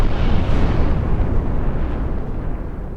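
Two torpedoes strike a pre-dreadnought battleship midships in a naval game, one loud, heavy explosion with a deep rumbling decay fading over a few seconds.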